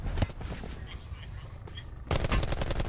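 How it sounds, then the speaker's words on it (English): Sharp gunshots in Black Ops 4 Blackout, a cluster of bursts early on, then a quieter gap and a dense volley of rapid shots at the end, loud and close. "I'm being sniped right in front of me"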